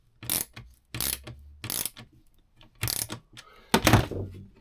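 Fitting being screwed into a Drascombe Lugger boat, heard as a series of five loud, close ratcheting turns with brief pauses between, a faint rattle following the fourth.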